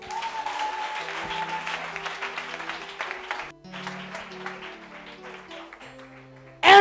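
A church congregation claps in loose, dense applause to acclaim the Lord, with some rhythmic clapping and a sustained organ-like tone underneath. The applause continues steadily and ends with an abrupt loud burst.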